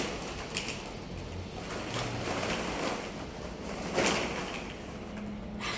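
Sea waves and open water heard from a boat on a seaside outing, a continuous broad wash of surf and wind with a slightly louder swell near the end and no talking.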